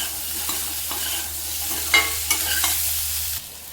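Boiled baby potatoes frying and being stirred in a pan for a masala, with a steady close sizzle and a few sharp scraping stirs and clinks of the utensil, no voices over it.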